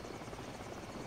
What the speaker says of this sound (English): It's just that helicopter up there is causing us issues